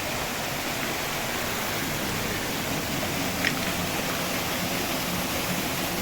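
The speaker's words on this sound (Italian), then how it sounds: "La cascata bellissima, vedete, notate queste pieghe" The Bognon waterfall in the Prealpi Bellunesi roars as a dense, unbroken wash of falling water, loud and steady throughout with no voices.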